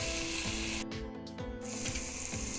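Egg biryani mixture sizzles and scrapes as it is stirred and fried in a pressure cooker, a steady close frying hiss broken by rhythmic metallic spoon scrapes, with no voices.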